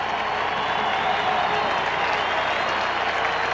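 A big stadium crowd applauding at a 1999 West Virginia vs. Pitt college football game, a dense, steady roar of clapping and cheering that holds throughout, loud and continuous, with a voice talking over it.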